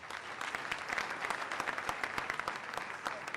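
An audience at a debate final greets jury president Henri Lopez with dense, sustained applause, many hands clapping fairly close and loud without pause.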